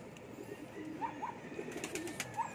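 Soft, low cooing from racing pigeons at a loft, several short rolling calls scattered through a quiet outdoor ambience, with faint chirps above.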